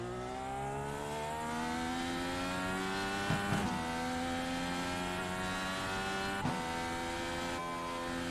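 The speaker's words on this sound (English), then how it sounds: "Car sounds so good." A race car engine roars steadily at high revs, its pitch rising and falling through gear changes, with a couple of brief sharp bursts.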